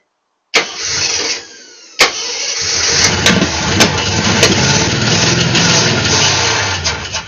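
A Jeep CJ7 engine with new wiring and HEI ignition cranks, briefly catches and dies, then cranks again and starts, settling into a loud, steady idle close by.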